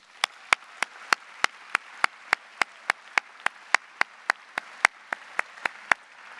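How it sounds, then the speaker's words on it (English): Applause for university leaders at a 2021 orientation welcome, heard as steady, evenly spaced single claps at a brisk regular pace, fairly close and alone without talk. "Please join me in a round of applause for these university leaders."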